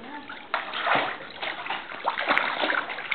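Someone swimming toward the steps of a swimming pool, with repeated close splashes and sloshing water in irregular bursts while a voice speaks faintly in the background.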